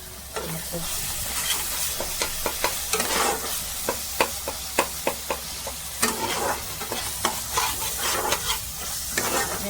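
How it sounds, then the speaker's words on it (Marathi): Homemade village masala and chili powder roasting in oil in a pan, a constant close sizzle broken by a regular run of sharp spatula scrapes and taps as the spices are stirred. "आपलं मसाल्यामध्ये कसं व्यवस्थित त्याला भाजू देते मसाल्याला, आपल्या चटणीला."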